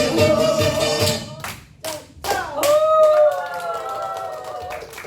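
A group does a health clapping exercise at a seniors' camp, with bursts of sharp hand claps in uneven clusters, mixed with singing and voices.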